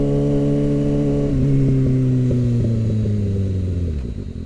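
A Kawasaki ZX6R motorcycle engine hums loud and close with a strong steady tone, then revs and drops in pitch as it slows while riding, fading slightly at the end.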